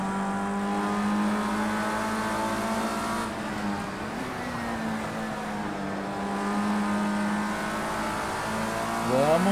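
A race car in the Project Cars 2 racing game accelerates through the gears at Donington Park, its engine note steadily climbing and dropping with each shift, loud and continuous throughout.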